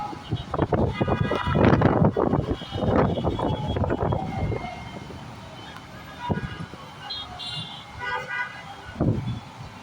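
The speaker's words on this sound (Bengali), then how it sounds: "প্রত্যেকটা গাড়ি তাদের হেডলাইটগুলো জ্বালিয়ে চলাচল করছে" Busy Dhaka city traffic on a dark, stormy afternoon, with car horns tooting and engines rumbling close by under gusting wind, a steady loud wash of street noise throughout.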